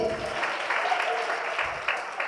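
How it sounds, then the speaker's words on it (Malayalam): Children clap together at a vacation Bible school gathering, a steady broadband patter of applause that holds for about two seconds with a few louder swells, a faint voice underneath. "അപ്പൊ നമ്മുടെ അഡ്രിൻകുട്ടി നല്ലൊരു കൈയടി കൊടുത്തേ."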